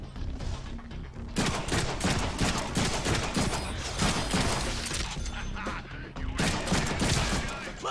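Sustained rapid gunfire from the Deadpool video game, a dense loud barrage of shots with a brief lull near the start and another dip before a final burst.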